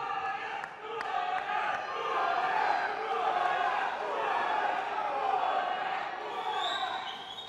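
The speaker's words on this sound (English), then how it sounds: "a crowd that is very much behind you." A crowd at a boxing weigh-in in Barnsley roars and chants steadily, a dense wash of voices with shouts rising above it throughout.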